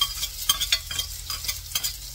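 Yellowtail fish frying in a pan while being stirred, giving a steady sizzle broken by repeated scraping strokes from a utensil, close and fairly loud.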